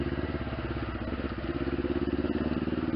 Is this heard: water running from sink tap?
no